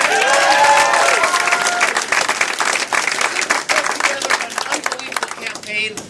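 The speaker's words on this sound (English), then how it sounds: "First, let's give Ken Martin a huge round of applause." A crowd at a 2012 DFL political rally breaks into loud, sustained applause. The dense clapping is mixed with some cheering, and a voice carries over the opening moments before the clapping gradually thins.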